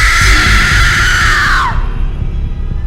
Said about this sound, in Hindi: आधी रात हुई तो मैरी की दादी को जोरों की चीख सुनाई दी